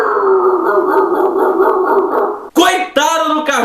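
A person howls and yelps in imitation of a dog, a drawn-out wavering cry followed by two short sharp bark-like yips.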